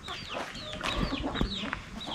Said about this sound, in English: And this chicken, the roosters have been fighting so bad.